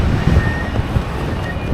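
Wind roars across the microphone while windfoiling downwind through big waves, with a constant rushing wash of water and air and occasional low thumps of the board over the chop.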